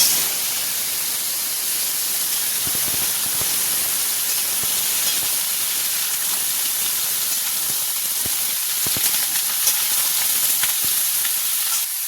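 Bottle gourd pieces drop into hot oil with cumin seeds and dried red chilli, setting off a continuous close hissing sizzle with scattered small crackles and pops, and no voices.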